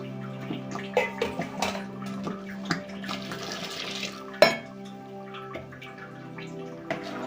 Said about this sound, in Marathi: अजून एक तांबडं पाणी आपण घालणार आहे